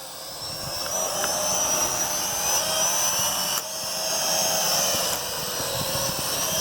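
A Venom Pro GPS streaming drone flying outdoors in a park, giving a steady high-pitched whine of buzzing rotors that holds loud and continuous throughout with slight shifts in pitch.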